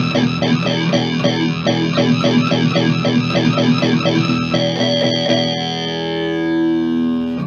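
A Digitech Bass Synth Wah pedal makes a distorted bass synth pulse rapidly with an "oi"-like vowel sweep, a steady wobbling rhythm that shifts into a sustained, ringing tone near the end.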